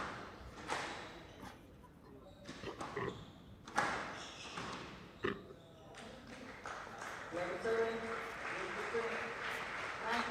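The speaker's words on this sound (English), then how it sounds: "A round of applause for the winner." Audience at a national squash championship semi-final on a glass court clapping for the winner, scattered claps and thuds swelling into fuller applause, with voices talking over it.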